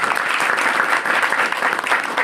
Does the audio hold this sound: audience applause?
yes